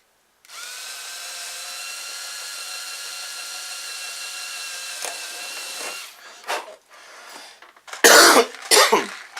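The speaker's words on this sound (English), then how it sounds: "Now, I'm going to drill my first hole." A small drill boring a hole in a Phoenix Models Genesis model airplane, a steady whine running for several seconds, followed by brief coughing and throat clearing.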